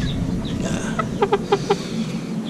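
A Bangkok fighting chicken gives a few short, close clucks in a quick cluster, heard alone over a faint background hum.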